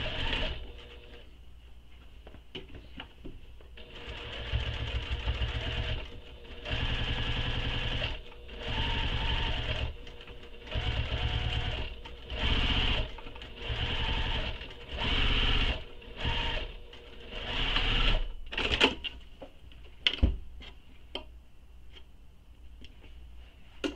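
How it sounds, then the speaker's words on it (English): A sewing machine top stitches a seam allowance on a tote bag in repeated short runs of steady whirring stitching, each a second or two long, separated by brief pauses, close and clear. "And now we're going to top stitch this seam allowance we just pressed."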